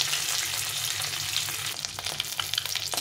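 Duck eggs frying lightly in oil in a pan, a dense continuous sizzle and crackle close up, with a few stirring scrapes near the end and no voices.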